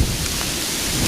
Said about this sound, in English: We have a driving rain right now, and the wind is clearly picking up in tempo.